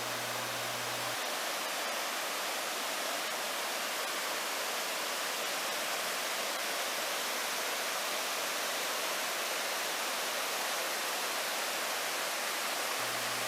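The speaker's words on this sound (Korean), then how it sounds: "수정같이 맑은 계곡물이 폭포처럼 바위면을 타고 흘러내립니다" Crystal-clear mountain stream water cascading like a waterfall over a rock face beneath a bridge in a Seoul mountain valley gorge, a loud continuous broadband rush with no breaks, unaccompanied by voices.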